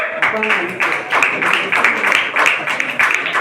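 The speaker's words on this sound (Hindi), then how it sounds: "अपर्णा के लिए भी तालियां।" Audience applause at a children's poetry competition at Kilkari Bihar Baal Bhawan, dense steady clapping from a crowd filling the moment, fairly loud and continuous.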